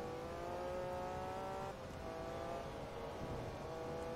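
A McLaren racing car engine in Forza Motorsport 2 holds a steady high whine with layered harmonics and a brief dip in pitch mid-way, a continuous loud drone with no talk.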